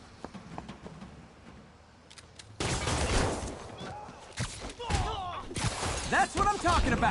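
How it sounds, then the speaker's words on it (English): Gunfire in the Spider-Man PS4 video game, a burst of rapid shots and thuds that suddenly breaks in after a quieter stretch, followed by loud clattering impacts and a voice speaking over the action. "Gunshot coming!"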